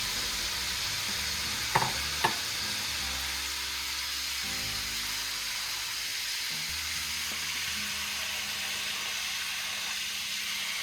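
Onions going into a pan of softening peppers for peperonata, a steady low sizzle with a couple of sharp clinks early on, close and continuous with no talk.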